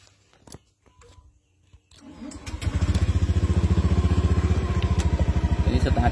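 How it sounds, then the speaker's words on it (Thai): A Honda Zoomer X scooter cranks briefly, catches and settles into a steady, loud, rapidly pulsing idle close by, after a few quiet clicks. "เดี๋ยวผมสตาร์ทเครื่องให้ดู"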